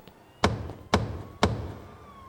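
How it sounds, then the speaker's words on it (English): Three sharp knocks land on a door at an even, deliberate pace, each a crisp thud that fades quickly into a quiet room, with nothing else heard. "there was a knock at my door"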